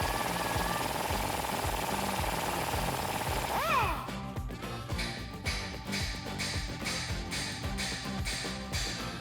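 Hammer blows on a Jeep Wrangler JK steering knuckle to free a ball joint: a dense, noisy stretch gives way to a rapid, steady run of sharp metallic strikes, close and loud.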